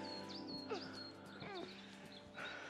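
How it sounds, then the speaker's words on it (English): Several birds chirp and tweet in quick, scattered calls in hillside woods in the Alps, against a quiet outdoor background, with short rising and falling notes. "have you heard that the bird sound?"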